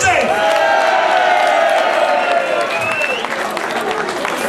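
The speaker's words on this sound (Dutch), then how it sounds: "Geef dit Prinsenpaar nog een geweldig applaus." Loud carnival crowd applauding and cheering for the prince couple, Prince Christian and Princess Stephanie, at a Limburg vastelavond event, dense clapping with whoops and shouts and some voices mixed in, sustained throughout.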